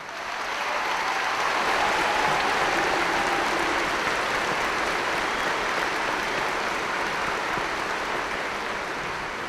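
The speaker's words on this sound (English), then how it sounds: "I think it's more than appropriate to give them a round of applause." A graduation audience at a high school commencement breaks into sustained applause for students entering the military, a dense, even wash of clapping from many hands that holds at a steady level without a voice over it.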